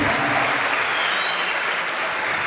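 A church congregation claps loudly during a sermon, a thick, continuous burst of applause filling the room without a break and without anyone speaking.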